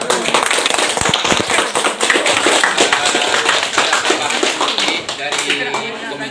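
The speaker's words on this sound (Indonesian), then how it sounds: "Berikan aplaus." Audience applause at a high school event in Simeulue, Aceh: a dense, loud patter of many hands clapping continuously and close by, with voices mixed in.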